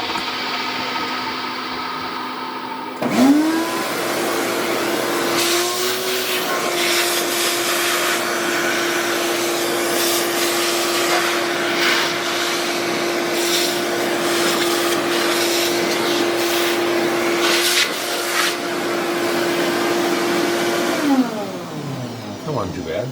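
A vacuum cleaner starts with a rising whine and then runs as a loud, steady drone for about eighteen seconds before winding down, with a workshop lathe setup nearby.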